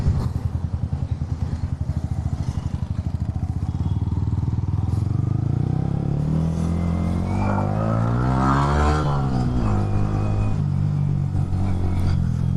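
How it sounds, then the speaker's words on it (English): A Yamaha R1 motorcycle with an Akrapovic exhaust rumbles and revs loudly, a steady throbbing idle at first, then the pitch climbs and falls in sweeping revs, close by. "Now you guys can hear the exhaust note"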